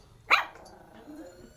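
A dog gives one sharp, fairly close bark that quickly fades, followed by faint low sounds in a quiet room.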